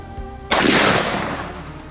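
A single loud, close .450 Marlin shot of a Buffalo Bore 400-grain full metal jacket round striking a safe: one sharp crack, then a short decaying roar of echo.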